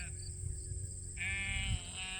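Sheep bleat on a farm, one drawn-out, wavering call rising clearly over a steady low rumble and faint background noise, fairly close to the listener.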